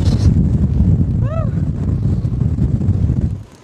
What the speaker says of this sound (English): it's a little windy out here